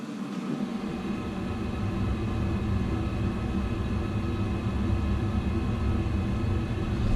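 Chinese diesel heater running inside a boat, a steady broadband roar with fan hum and no clicking, constant and moderately loud throughout.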